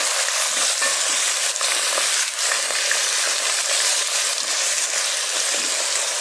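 Chicken with fresh and frozen vegetables fries in a pan while being stirred, a steady close sizzle with dense crackling and occasional scraping stirs, continuous and without talk.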